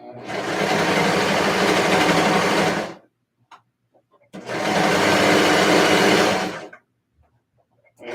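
A sewing machine runs in two loud, sustained bursts close up, stitching an arm onto a ruffled Christmas dress, with short quiet pauses between runs.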